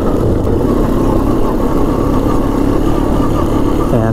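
A Honda Foreman 400 ATV engine runs in fifth gear during a test drive, a loud, steady mid-low drone with constant rumble and no break throughout.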